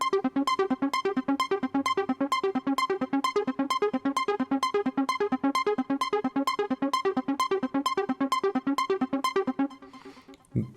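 A techno synth melody in a changed second part, inspired by video game music, runs as a rapid, evenly pulsed sequence of bright plucked notes that loops steadily, then fades out with a brief tail.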